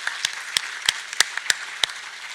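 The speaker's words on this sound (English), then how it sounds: "can we just give them a recognition and a round of applause" Sparse, scattered hand claps from a small number of people at a school graduation ceremony, sharp individual slaps spaced irregularly against a quiet room background.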